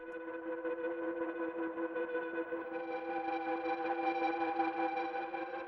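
Eerie synth pad preset from the Aberration sound bank plays alone as a sustained, steady drone with layered tones and echoing effects, brightening slightly partway through.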